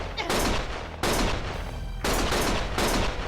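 Gunfire from the action video game Lost Judgment: three sustained, loud bursts of rapid shots, each lasting about a second, with brief gaps between them and no speech over them.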